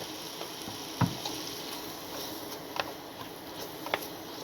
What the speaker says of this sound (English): So I'm going to cook that until the onions become translucent.